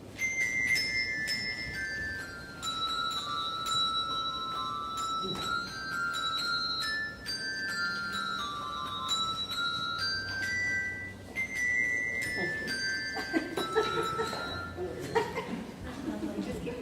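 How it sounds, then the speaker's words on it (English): A handbell choir plays a hymn in a church setting, bright ringing tones struck in succession and overlapping with sustained decays, high bells included, with some soft chuckles and low voices in the room. "So that's the very highest bells, and sometimes they double because we have many members."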